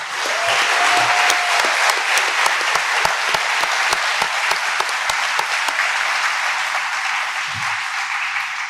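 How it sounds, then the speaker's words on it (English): Steady, dense applause rolls through a press room welcoming Phoenix Suns draft picks Ryan Dunn and Oso Ighodaro, many hands clapping at an even level for nearly nine seconds with a few sharper individual claps standing out. "I'd like to stand and give these guys an acknowledgement and a round of applause"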